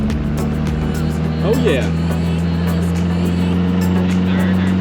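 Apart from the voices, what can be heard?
1963 MG Midget engine accelerating in second gear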